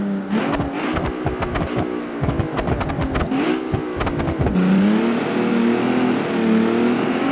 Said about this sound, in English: I just want to rev it though. Because of how good it sounds though.